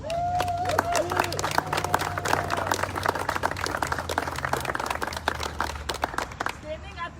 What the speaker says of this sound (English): if we can give them another round of applause